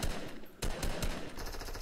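Rapid bursts of automatic gunfire in the Fortnite video game, loud and close, with a short gap before the shooting resumes in quick strings.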